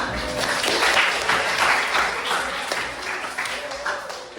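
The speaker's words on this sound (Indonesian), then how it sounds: "Ya, tepuk tangan untuk kita semua." Students clap in a classroom after the top-scoring groups are announced, a moderate, fairly close patter of hands that swells and then gradually tapers off.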